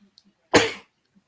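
A single short, sharp sneeze close by, bursting out abruptly and fading within a fraction of a second in otherwise quiet surroundings.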